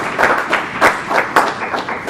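Audience applause at an evening event honouring Westerville Central High School students, a crowd's claps blending into a steady rhythmic patter of loud, close hand claps with no speech.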